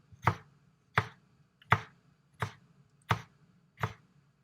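Six sharp knife chops against a board, evenly spaced in a steady rhythm, each a crisp thud, with quiet between them.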